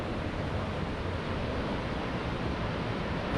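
Nambe Falls in New Mexico pours with a strong flow, a steady, dense roar of rushing water heard from an overlook, loud and unbroken with no voices.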